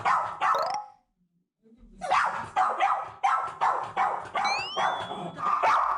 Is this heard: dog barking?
yes